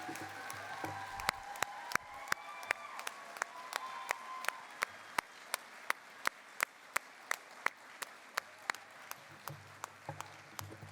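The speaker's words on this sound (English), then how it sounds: "Let's have a really big round of applause for them." Crowd applauding nursing graduates at a pinning ceremony, steady sustained clapping from many hands with sharp periodic claps standing out, fairly distant and continuous throughout.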